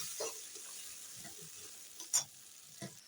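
Tomato paste with small cardamom pods sautés in a pan for a chicken dish, soft frying sizzle broken by a few short stirring scrapes and a sharper clatter midway.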